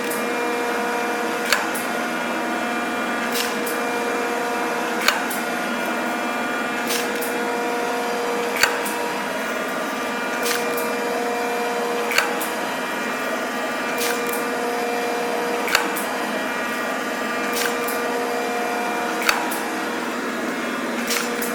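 A Rockford hydraulic shaper machine cutting metal, a continuous humming whine with a sharp click or clack repeating roughly every three and a half seconds as the ram strokes, steady and close, no talking.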